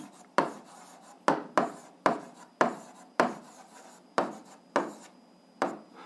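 Pen writing an equation by hand on paper, a steady series of about ten short scratchy strokes in an uneven rhythm, close and soft.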